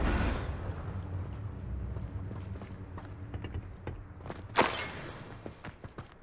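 A Confringo fire spell in Hogwarts Legacy bursts into a loud, bright explosive whoosh near the end, following a rumbling fiery wash and scattered thuds of combat.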